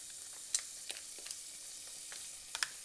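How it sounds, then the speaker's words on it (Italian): Onion and prosciutto fry in hot oil, a faint, continuous crackling sizzle dotted with a few sharp pops and spits, close by and free of talk. "a soffriggere la cipolla con il prosciutto, se usate il prosciutto, di là. Ok, l'olio è caldo, andiamo a mettere"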